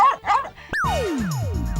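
A person mimics a dog with yelping, whining barks, a few sharp pitch-sliding yips in quick succession, loud and close.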